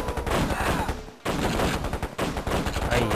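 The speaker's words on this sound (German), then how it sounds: "Oben wird schon wieder geschossen." Sustained gunfire in the real-time strategy game KKND, dense overlapping volleys that roar almost continuously with a brief break, loud and close, while a voice talks over part of it.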